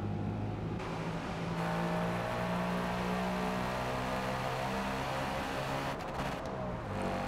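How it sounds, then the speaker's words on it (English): A Ford Mustang's engine in the Forza Motorsport racing game, heard from outside the car as a steady, full droning hum with a rich low rumble that holds throughout, with no talking. "Car sounds better from the outside, but I can't use a wheel and drive in this chase cam."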